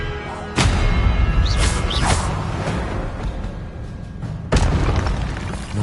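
Expelliarmus spell cast in a Harry Potter video game, a sharp whooshing burst with a booming impact, followed by a second loud blast a few seconds later over a rumbling game background.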